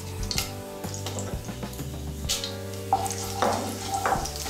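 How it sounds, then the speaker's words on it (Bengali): Bay leaves and whole cumin seeds sizzle and crackle steadily in hot oil in a wok, a continuous close frying hiss with light stirring, under a tonal background hum. "এই তেলের মধ্যে আমি তেজপাতা আর গোটা জিরে ফোড়ন দিচ্ছি।"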